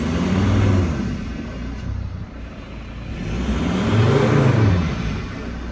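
A Mercedes Sprinter van with a turbo actuator fault idles with a low, uneven engine drone, its pitch sagging and surging in slow waves as though it is about to stall.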